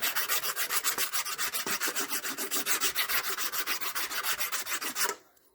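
Rapid back-and-forth sanding on a 1964 Comet's paint with paper wrapped around a small flat stick to work out scratches, a steady rhythmic rasp of about five strokes per second, close and loud, stopping abruptly near the end.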